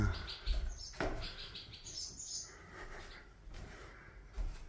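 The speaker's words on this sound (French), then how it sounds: "Il y a même des oiseaux dans la cabane." Birds chirp inside a wooden bird-watching shelter in Denmark, a string of small, close tweets over a rustling, roomy background with soft knocks and creaks; quiet overall, with no clear talk.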